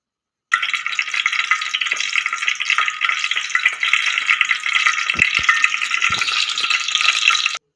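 Green spinach paste frying in hot oil over a cumin tempering, a steady close sizzle that runs unbroken with faint clinks from a stirring spoon, no voices.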